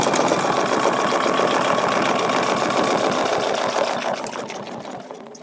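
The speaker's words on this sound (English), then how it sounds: "I'm just going to stitch everything" A sewing machine runs steadily, stitching a feather leaf template design onto fabric with a dense, rapid mechanical rattle that holds for about four seconds and then eases off and slows near the end.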